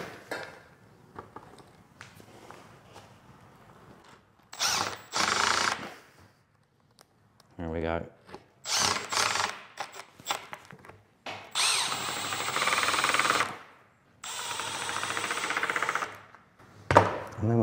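Cordless power drill driving screws into a simple wooden bench made from plywood, in repeated loud whirring bursts of a second or two each, separated by pauses.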